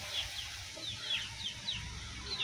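Chickens near a home coop give faint, scattered clucks and soft chirps under a quiet background hum.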